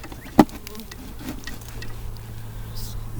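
Bees in a beehive built inside a water meter box give a faint, steady low buzz, with a single sharp knock near the start.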